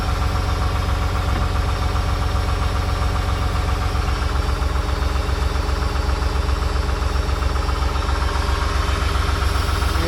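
A John Deere 850J dozer's rebuilt engine runs at a steady idle, loud and close, with a constant low rhythmic throb and knocking pulse that holds unchanged throughout.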